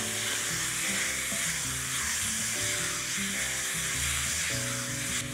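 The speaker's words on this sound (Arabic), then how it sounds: "ساعتها هنزل البصل هاخده تشويحه" Onions sizzle in a pan with meat for an okra stew, a steady dense hiss with some low rumbling stirring beneath, close and continuous without speech.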